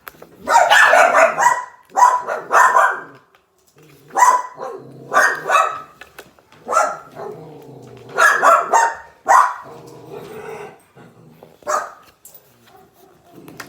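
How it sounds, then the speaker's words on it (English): Dogs barking in bursts of loud, close barks and yips, with pauses between volleys and a few whimpering notes, heard without any talking. "the dogs are trying to bark at somebody"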